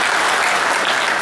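Men in a graduation ceremony audience clap together, a steady dense patter of applause throughout, loud and close, with no voices over it.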